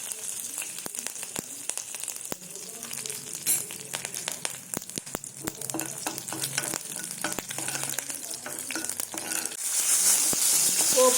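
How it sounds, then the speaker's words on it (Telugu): Garlic, dried red chillies and curry leaves fry in hot oil as a tempering for a Telugu mango dal. A steady close sizzle runs throughout with occasional stirring clatter, and it swells louder near the end. "వెల్లుల్లిపాయలు, ఎండుమిరపకాయలు, కరివేపాకు ఇవన్నీ వేసి వేయించుకోవాలి"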